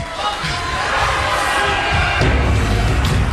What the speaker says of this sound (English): Not a very sympathetic response from the crowd in the Impact Zone